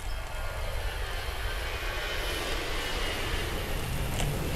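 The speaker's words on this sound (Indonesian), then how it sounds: "Bisa dengar pesawat. Nggak tahu itu apakah sedang mendarat atau mau naik." An airplane engine drones steadily as a broad, continuous roar near an airport on an ultra cycling route, loud and unbroken with no talk over it.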